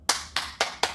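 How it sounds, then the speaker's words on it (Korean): Four sharp, evenly spaced hand claps ring out close and alone in a quiet room. "박수."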